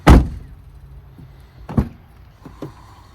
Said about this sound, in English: So now let's give it the door closing test.